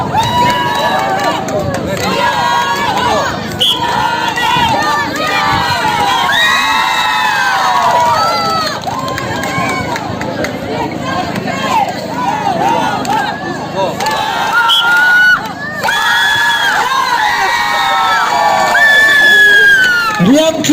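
Crowd at an arm wrestling match cheers and shouts continuously, loud and close, with excited voices rising and falling throughout.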